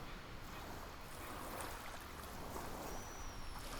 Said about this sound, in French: au bruit des vagues qui peuvent se synchroniser avec ma respiration